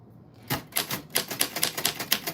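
Vintage manual typewriter typed at a steady pace, a string of sharp, close key strikes after a brief quiet start, with no talking.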